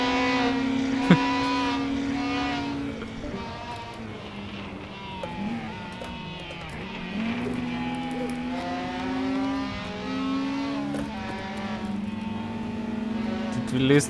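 A loud race car engine in the VR racing game Assetto Corsa, a Nissan R30 Skyline Super Silhouette at Zolder, drones and revs continuously with shifting pitch, heard from inside the roofless car while a person talks over it.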